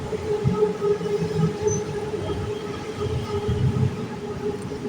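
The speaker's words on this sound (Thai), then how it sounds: "รถไฟฟ้าครับ" Electric train in Thailand running by up close, a continuous rumbling roar with a steady motor whine and rhythmic wheel thumps, with no talk over it.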